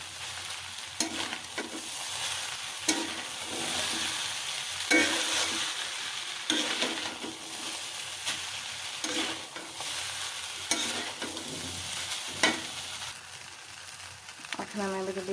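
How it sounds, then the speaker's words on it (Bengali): Noodles tossed and mixed in a frying pan, with steady sizzling frying and repeated scraping, clattering strokes of a spatula against the pan throughout, close and fairly loud. "এখন আমি নুডলসটা সুন্দর করে মিশিয়ে নেব।"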